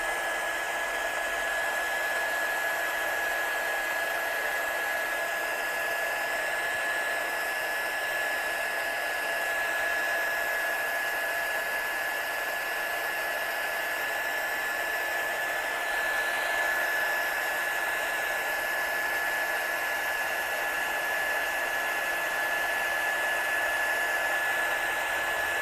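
A heat tool blows steadily to set embossing powder, giving a constant hair-dryer-like whoosh with a thin high whine, running unbroken at an even level throughout with no voices.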